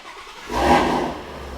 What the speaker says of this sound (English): all that we really have to do is just start the car